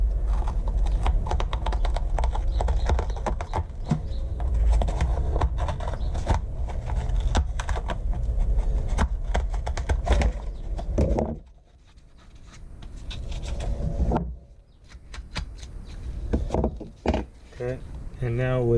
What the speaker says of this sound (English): now with an X-Acto knife, we're going to cut the rim of the speaker